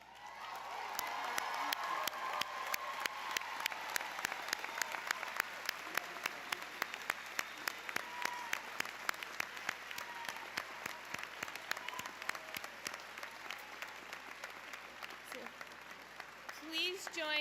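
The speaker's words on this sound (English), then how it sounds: "Please join me in a heartfelt round of applause to honor these outstanding students for what they have achieved." An audience at a college commencement ceremony applauds graduating students, with sustained clapping, scattered sharp individual claps, and some cheering and whoops over a long, steady stretch.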